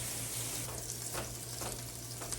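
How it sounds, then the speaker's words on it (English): Turkey burgers sizzle steadily in a hot pan, a loud continuous frying hiss with brief scraping bursts as the patties are flipped, with no voices. "You want to flip the burgers"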